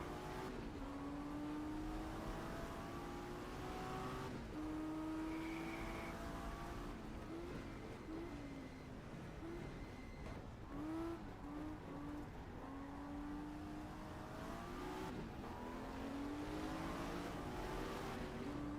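Several 1960s grand touring race cars in the GTR2 FIA GT racing game rev and shift, with engine pitch rising and falling repeatedly as cars accelerate and pass, a steady loud drone with no voices.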